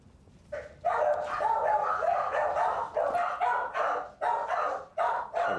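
A dog in the Pathfinder: Wrath of the Righteous game session barks in a steady run of loud, close yelps and woofs that keep going with short gaps, with no talk over it.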